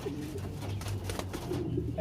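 Racing pigeon cooing at close range, low soft repeated coos in a steady rhythm over a constant low background hum, with no one speaking.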